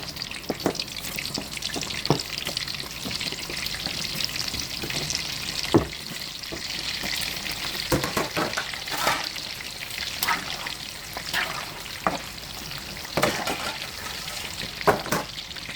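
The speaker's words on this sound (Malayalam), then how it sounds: "ആ ചട്ടിയിലോട്ട് നമുക്ക് സമൂസ ഇട്ട് കൊടുക്കാം." Potato samosas deep-frying in a pan of hot oil give a steady, bubbling sizzle with scattered sharp pops and crackles throughout, close and fairly loud, with no speech.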